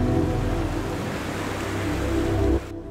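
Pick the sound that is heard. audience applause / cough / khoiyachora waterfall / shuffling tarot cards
khoiyachora waterfall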